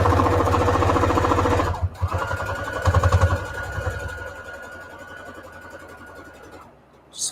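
A sewing machine runs a quarter-inch straight stitch through quilt fabric, its rapid mechanical whir and needle chatter steady, then pausing and resuming in short bursts before fading out near the end.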